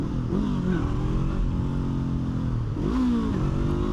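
A street motorcycle engine revs hard during a wheelie attempt, a steady close mechanical drone that dips slightly, then climbs sharply in a quick throttle burst near the end.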